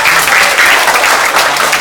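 A loud, close crowd of listeners at a youth festival session claps in a thick, continuous wave of applause that holds steady without any pause.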